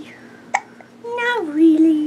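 A baby gives one short, sharp hiccup, followed by a baby's soft cooing vocalizations nearby.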